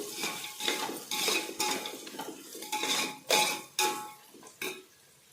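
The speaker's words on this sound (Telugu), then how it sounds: "కొంచెం పసుపు, కొంచెం కారం వేసుకొని మళ్ళీ వేయించుకోవాలి." Turmeric and chilli powder being fried in a pan, heard as repeated scraping and clinking strokes of a spoon against metal in an irregular rhythm, with only faint sizzle underneath.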